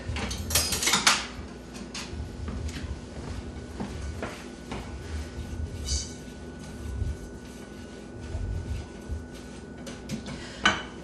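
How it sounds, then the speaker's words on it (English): A metal whisk clinks and scrapes against a pan as cornstarch and sugar are stirred together on a stovetop, a light irregular rattle that stays fairly quiet and close. "I have 3 tablespoons of cornstarch and a cup of sugar. Whisk that together."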